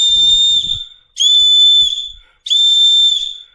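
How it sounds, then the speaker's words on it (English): Three loud, shrill blasts from a survival whistle, each held for about a second with short gaps between, close by and alone. "Now we're going to do the Coglin whistle."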